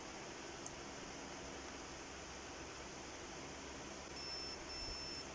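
A multimeter on continuity test sounds a thin, steady electronic beep near the end while probing the IGBT modules of a SEDA-200A welding machine with a shorted fault, over a faint hissy background.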